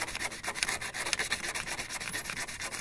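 Steady scratchy rubbing of sandpaper scrubbing the rusty power sliding contact on a car door, continuous close strokes throughout with no talking.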